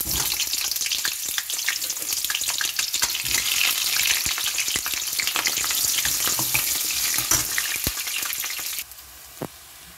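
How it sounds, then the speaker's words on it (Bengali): Sliced onions sizzle and crackle loudly in hot oil with whole spices, close up, with steady popping and occasional stirring clicks before the frying suddenly quiets near the end. "পেঁয়াজটা ভাজা হয়ে গেছে লাল লাল করে।"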